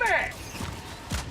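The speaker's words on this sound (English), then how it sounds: "Reloading." A weapon magazine reload in the video game Helldivers 2, heard as a quick sequence of mechanical clicks and clacks: a sliding metallic rattle at the start, then two short snaps as the new magazine seats.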